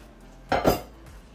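Spoon stirring rice in a cooking pot for Jamaican-style rice and mackerel, two quick close metallic scrapes against the pot in an otherwise quiet moment.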